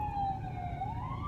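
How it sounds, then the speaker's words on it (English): An ambulance siren wails steadily and fairly close as it approaches through an intersection, its pitch sliding gradually, with road and engine rumble underneath. "ambulance coming up on me"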